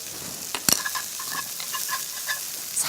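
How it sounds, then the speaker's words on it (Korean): Spinach stir-frying in a hot pan, a steady soft sizzle with small crackles and a few brief clatters of chopsticks or utensils, heard alone at moderate volume. "칙 소리가 나게 이렇게 소리가 나게. 소리 나네요."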